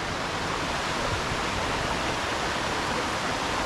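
Scale Force waterfall near Crummock Water in the Lake District roars as a steady, dense broadband rush of falling water, continuous and close with no break and no voices.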